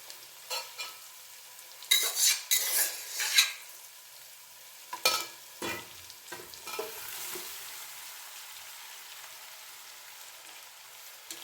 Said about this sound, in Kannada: ಈಗ ಮಿಕ್ಸ್ ಮಾಡಿಬಿಡೋಣ ಅನ್ನ ಹಾಗೆ ಈರುಳ್ಳಿ ಎಲ್ಲ ಸೇರೋ ರೀತಿ